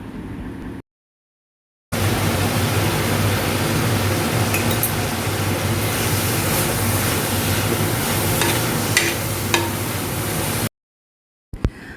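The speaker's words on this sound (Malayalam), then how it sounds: "മൂത്ത് വന്നപ്പോൾ അതിലേക്ക് ഞാൻ സവാള അരിഞ്ഞതിട്ട് കൊടുക്കുകയാണ്" Sliced onions with salt sauté in a hot pan, giving a steady, loud sizzle with occasional stirring scrapes, framed by short silences at start and end.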